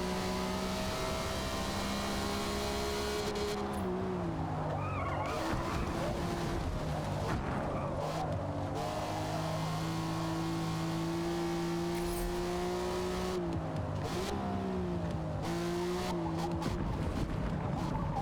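A car engine revs and drones with shifting pitch while tires squeal and skid in repeated bursts, loud and close.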